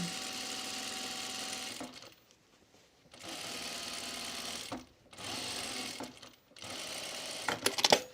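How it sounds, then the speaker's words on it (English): Sewing machine running gathering stitches on a dress being remade into a new garment, in three steady bursts of whirring separated by short pauses, close and loud with no talk. "I like when I'm doing gathering stitches, I do 2 rows."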